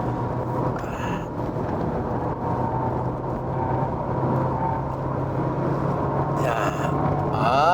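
A front-wheel-drive Volkswagen Jetta sedan is pushed hard into a corner on a test drive, its engine and road noise a steady, fairly loud cabin rumble that swells toward the end, with brief higher whines.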